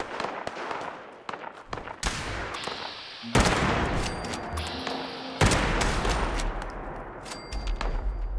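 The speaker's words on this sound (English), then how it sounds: "Who were they shooting at?" Gunfire in Fallout 76, bursts of loud shots and explosive blasts in irregular clusters, some close and heavy, others sharper and more distant, continuing throughout.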